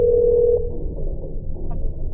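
A steady electronic phone tone in the FNAF Plus video game holds for about half a second and then cuts off, leaving a low background drone and a brief faint blip.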